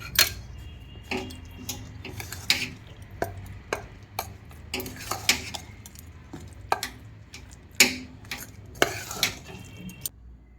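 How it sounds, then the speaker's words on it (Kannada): Spoon stirring ground spice masala with salt for North Karnataka stuffed brinjal, a close series of sharp scraping clinks and taps against a bowl in an irregular rhythm, each stroke distinct over a quiet background. "ಈಗ ಉಪ್ಪು ಹಾಕಿ ಚೆನ್ನಾಗಿ ಮಿಕ್ಸ್ ಮಾಡ್ಕೋಬೇಕು"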